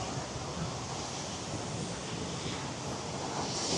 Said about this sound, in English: the amount of water that's hitting me from the waterfall